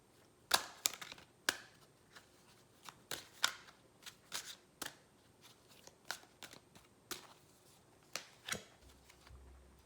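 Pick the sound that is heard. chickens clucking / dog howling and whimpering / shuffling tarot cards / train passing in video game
shuffling tarot cards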